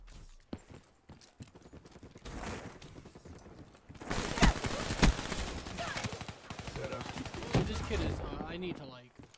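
Gunfire from an AR sniper battle in Black Ops 3, played with a controller on PC: bursts of sharp shots crackle throughout, loudest in the middle, with some quieter clattering between volleys.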